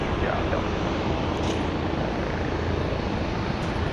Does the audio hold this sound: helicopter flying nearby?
yes